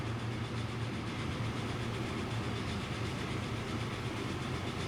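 Train rolling along in the video game Transport Fever, a steady rumbling drone with faint clickety-clack rhythm and a low engine hum, continuous and fairly close with no voices.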